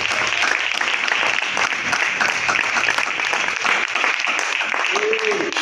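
A church congregation claps together during a sermon, producing a continuous, busy patter of many hands. The clapping is fairly loud and close, and a voice speaks over it.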